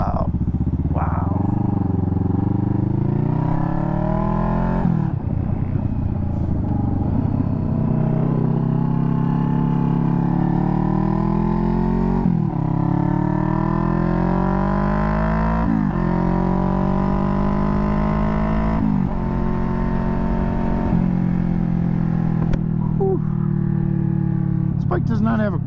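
A loud aftermarket-style exhaust on a 2021 Kawasaki Vulcan S roars continuously while riding, engine pitch rising and falling through repeated gear changes and throttle swells.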